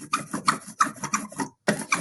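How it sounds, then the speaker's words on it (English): Brayer rolling thick ink over a styrofoam printing plate, a series of short rasping shh strokes in steady rhythm, close and fairly quiet, with one brief pause before the final strokes. "I'm going for that nice sound, like we practiced with the brayer prints, where it sounds like shh."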